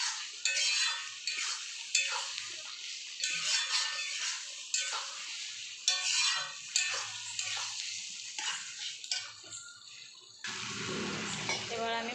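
Spoon stirring MDS masala into palak paneer in a pan, a repeated scraping and wet stirring in short strokes with faint sizzling underneath, then a burst of sizzle at the end.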